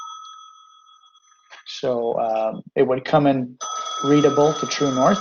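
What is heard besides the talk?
telephone ringing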